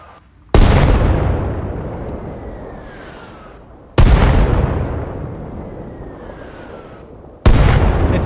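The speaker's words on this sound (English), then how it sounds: "I'm going to fire off a few rounds" Soviet mortar rounds in Arma Reforger boom three times at roughly even intervals, each a loud sharp blast trailing into a long rumbling decay, with a faint distant whistle before the next shot.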